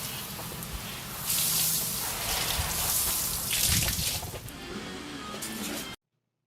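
Water spraying and splashing across an antique cherry wood table as Dawn dish soap is rinsed off, a broad steady hiss lasting about six seconds before cutting off abruptly.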